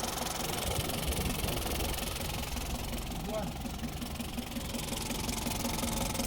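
A steady, low SUV diesel engine idle rumbles continuously with a faint knocking texture, close up and unchanging throughout; bubbles are coming through the injectors and oil is leaking.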